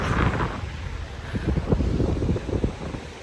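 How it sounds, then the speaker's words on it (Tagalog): Strong wind at the beach buffets the microphone in steady gusts, a rough low roar with faint surf-like wash behind it and no voices. "Malakas ang hangin."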